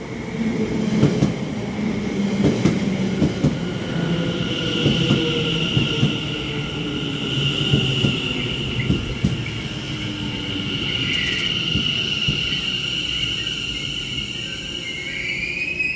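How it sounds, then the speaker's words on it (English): A Greater Anglia passenger service from Walton on the Naze to Colchester rolls into a station, with a steady loud rumble, rhythmic wheel clatter on the rails and a rising brake squeal, heard alone. "arriving in now is going to be the 1521 Greater Anglia service from Walton on the Naze to Colchester"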